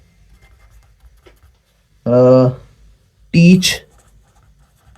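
A teacher writing an example sentence on a board, with faint scratchy strokes in the quiet gaps and two short spoken phrases.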